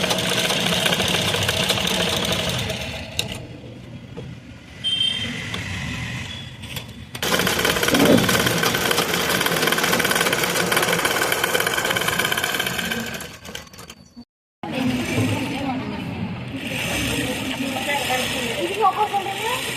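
Sewing machines stitch a non-woven shopping bag, running in loud, rapid, buzzing bursts that start and stop several times, with a brief silent gap near the end and people talking over the work.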